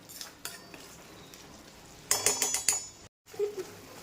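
A spoon stirs and scrapes a thickening coconut and jaggery modak filling in a pan, with a quick burst of clinking strokes midway, a brief silence, then soft stirring again.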